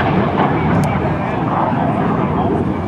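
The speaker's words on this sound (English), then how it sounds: "Our jet blast is pretty extreme." A jet aircraft at a military open house air show, its engine blast a loud, steady roar close by, with a voice talking over it.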